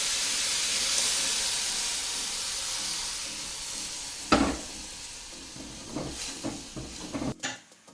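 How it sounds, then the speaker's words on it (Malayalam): Jaggery syrup mixture simmers and reduces in a pan, with a continuous sizzling hiss and several spoon scrapes and clanks against the pan near the end, and no voices. "ശർക്കര പാനി ചേർത്തിട്ട് ഇത് നന്നായിട്ട് വറ്റി വന്നിട്ടുണ്ട് കേട്ടോ"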